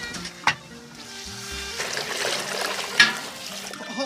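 Water is poured into a wok of fried tree leaves, dried chili, Sichuan peppercorns, soybeans and ginger for braising beef hooves: a close sizzle and splashing churn with a couple of sharp clatters, while a voice murmurs underneath.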